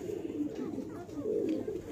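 A golden high-flying pigeon gives low, soft cooing in quiet, wavering bursts, faint and nearby, with a person talking at the same time.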